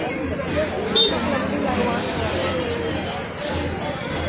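Steady murmuring babble of a large crowd fills the inside of the Mahakal temple in Ujjain, many indistinct voices blending into a constant moderate hubbub.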